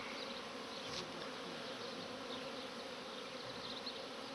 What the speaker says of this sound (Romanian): După cum auziți, un mare zumzăit. Au ieșit cam toate albinele de la toți stupii.